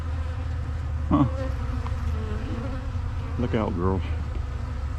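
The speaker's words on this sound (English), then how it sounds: "There's a lot of black bees in here too." Black bees and yellow jackets buzz in a steady, close drone that runs throughout, with someone speaking briefly over it twice.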